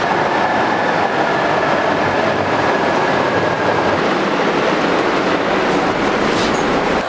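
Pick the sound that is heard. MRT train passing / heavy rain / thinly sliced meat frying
MRT train passing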